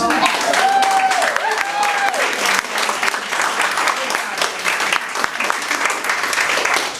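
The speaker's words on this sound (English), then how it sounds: "we need to give all these residents of the Glee Club another round of applause" Residents of a glee club are applauded by an audience in a strong, continuous burst of clapping that stays loud and close, with a brief whistle or cheer rising early on.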